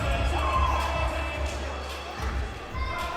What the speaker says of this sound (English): The crowd here in Plaquemine just going crazy for Mustang Mike.